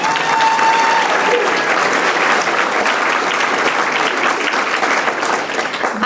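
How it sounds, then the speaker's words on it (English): A loud, dense round of applause from an audience at a City of Chicago clerk's office event, sustained evenly for several seconds, with faint crowd murmur and voices mixed underneath. "Can we give her a round of applause again?"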